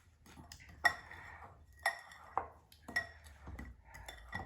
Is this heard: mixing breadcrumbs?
yes